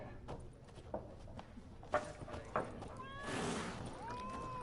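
Cat meowing inside the video game Witcher 3, a drawn-out rising mewl near the end over busy game ambience with clip-clopping hooves and scattered thumps.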